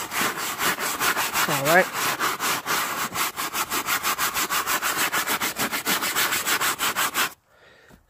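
A brush scrubs cleaner into a car's leather seat during detailing, giving rapid rhythmic back-and-forth rubbing strokes up close that stop abruptly near the end, with a brief spoken remark early on.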